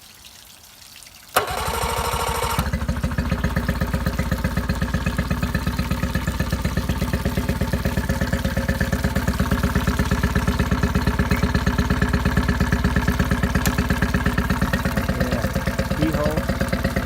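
A Yamaha 8 hp outboard motor fires on its electric start after a short click and whir, then idles at a steady, throbbing rhythm for the rest of the time, loud and close.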